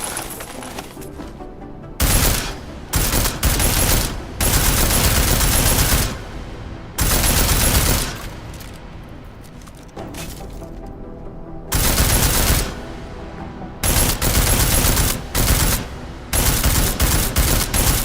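Video game gunfire from Deus Ex: Mankind Divided, loud bursts of rapid automatic shots in repeated volleys separated by brief pauses, standing alone without talk.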